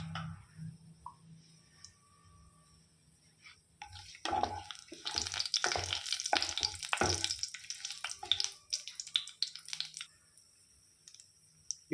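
Bay leaf, cinnamon, cardamom and star anise sizzle and crackle in hot oil for chicken thokku, a quiet frying hiss with a busier burst of spattering and stirring in the middle.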